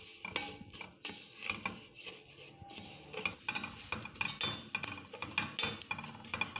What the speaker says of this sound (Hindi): अब इसके अंदर हम डालेंगे सेवइयाँ और इनको भूनेंगे